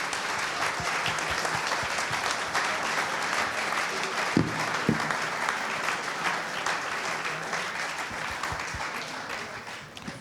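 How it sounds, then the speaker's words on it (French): An audience at a packaging company's 80th anniversary event applauds steadily for the whole stretch, with a faint voice over the clapping that fades slightly toward the end. "on va s'applaudir très fort de participer à ce grand groupe"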